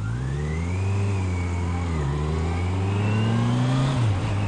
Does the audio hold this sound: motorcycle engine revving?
yes